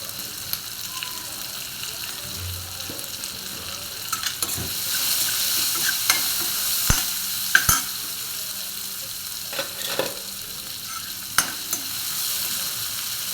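Chopped onion sizzling in a pan with salt and asafoetida, for a potato bhaji, under steady frying hiss, with repeated scraping and tapping of a spoon as it is stirred, close and continuous.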